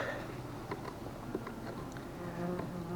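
A soft, continuous buzz of bees clustered on top of a hive, with faint ticks and rustles scattered through it and no speech.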